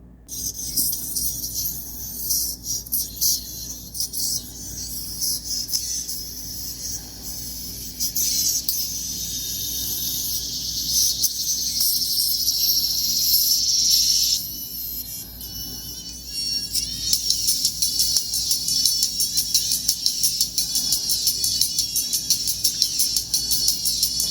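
A bright, thin, high-pitched sound plays on its own from a budget dome tweeter, hissy and tinny with almost no low end, shifting a little in texture over time.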